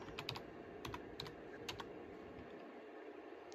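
Quiet typing on a computer keyboard: a few light, irregular key clicks in a short burst, close and faint, with no talking.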